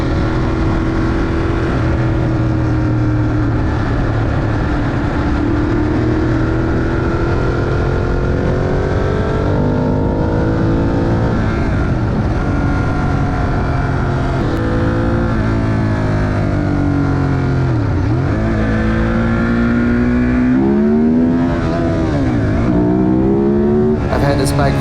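A 2016 Ducati Monster 821 is ridden on city roads around Truist Park in Atlanta. The engine drones loudly and continuously, its pitch rising and falling with throttle and shifts, and wind rushes over it.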